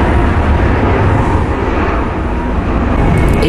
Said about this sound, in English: ABX Flight 102, 767 heading to Cincinnati.